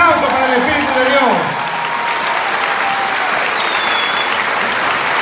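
Applause from a church congregation, a dense steady clatter of many hands that stays loud throughout, with a voice speaking over the first second.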